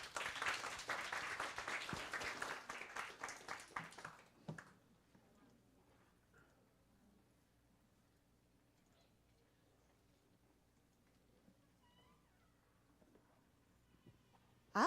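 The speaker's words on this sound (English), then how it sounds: "Please give a round of applause for Ms." A crowd applauds loudly for about four seconds, the clapping fading out and leaving a quiet room with only faint ticks and rustles.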